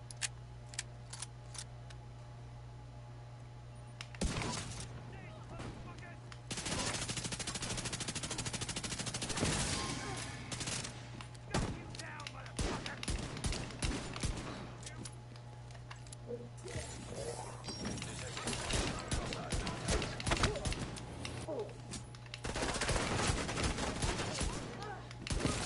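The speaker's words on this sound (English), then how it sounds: "That assault rifle a pretty good that new exotic." Exotic assault rifle fire in The Division 2 shooter game, set in Brooklyn: repeated bursts of automatic gunfire, some long and sustained and others short and sharp, over a steady low hum throughout.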